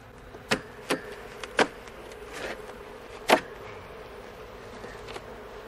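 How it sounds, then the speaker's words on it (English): Honeybees buzz in and around a hive super during a fall honey harvest, a low, steady hum close by, broken by a few sharp knocks and taps. "Boy, there's a lot of bees in there still."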